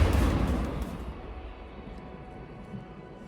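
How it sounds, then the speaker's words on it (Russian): A powerful artillery piece fires a shell during a Bashkortostan regiment combat deployment, a loud close blast at the start that decays into a long rumbling roar and fades over about three seconds, with no voices. "Выстрел!"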